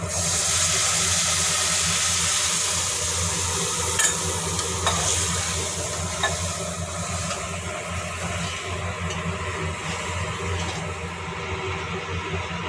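Steady loud sizzling and frying hiss with occasional stirring clinks, as water hits a hot pan of frying lentils; no voices.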